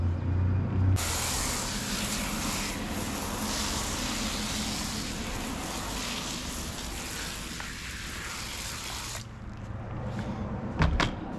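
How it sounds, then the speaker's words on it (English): An IK foam pump sprayer releases a steady, close hiss of foam onto a car tire for about eight seconds, with nothing else heard alongside it. "Now that's what I love about the IK foam pump sprayer. It shoots out a nice foam on the tire."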